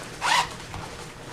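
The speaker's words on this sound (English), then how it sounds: "Right here in the zipper, I keep my sponges and Q-tips in here." A zipper on a freelance makeup artist's kit pouch is pulled open in one quick, close, bright zip, then the clip falls to quiet room tone.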